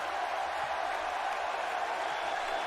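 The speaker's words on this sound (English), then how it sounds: "Crowd's really enjoying this one, that's for sure." A wrestling audience roars in a steady, broad wash of cheering and applause from a distance, sustained without breaks for the whole stretch.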